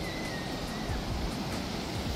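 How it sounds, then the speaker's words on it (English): Ocean waves at a Barbados beach near a hotel give a constant rumbling wash of surf, close and steady, with some wind noise and no voices. "But look at the waves today."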